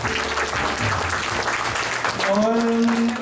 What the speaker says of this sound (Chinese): 请大家以掌声鼓励鼓励